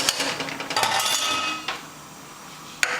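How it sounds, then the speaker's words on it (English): Chopped potatoes and onions tumbling into a cooking pot for chicken stew, a burst of clattering and clinking against the pot followed by a softer settling hiss and one sharp knock near the end. "So I'm gonna add my potatoes, add my onions,"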